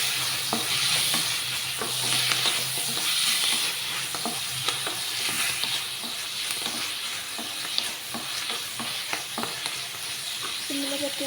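Curry leaves and broad beans fry in an onion masala in a pan, giving a steady, close sizzle and hiss with repeated scraping of a spoon as they are stirred. No voices are heard.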